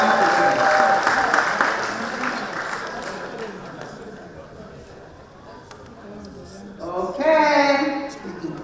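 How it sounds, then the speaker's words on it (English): Applause from an audience after a youth presentation, loud at first then fading over several seconds, followed by a voice speaking near the end. "Clap for her, please."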